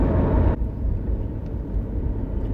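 A BMW 1 Series rolls along at low speed, around 30, in fourth gear: a steady, close cabin rumble of engine and road noise that drops a little after the first half second.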